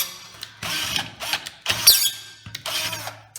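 An Einhell TC-CD 18/35 Li cordless drill bores with a 30 mm bit, running in three short, gritty bursts of grinding and whirring with brief pauses between them. The drill is close and moderately loud, and no one speaks.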